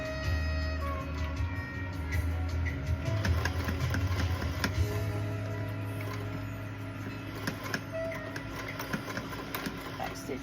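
A sewing machine back-stitches through thick layers of a handmade gift, its motor whirring in a steady close drone with brief changes in pace and faint mechanical ticking.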